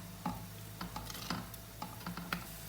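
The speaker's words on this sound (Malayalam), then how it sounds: "ഇനി ചെറുപയർ ചേർത്ത് നന്നായി മിക്സ് ചെയ്തെടുക്കാം" Cooked green gram being stirred into a thoran stir-fry, with a spoon giving quiet irregular taps and scrapes against the pan over a soft background hum.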